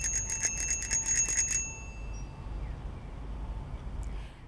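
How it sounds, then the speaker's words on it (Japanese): A bicycle bell rings rapidly several times in a row during a ride, bright and close, then stops, leaving steady outdoor traffic hum. "まずはこのようにベルの音を激しく鳴らしながらの走行も妨害運転の一つ。"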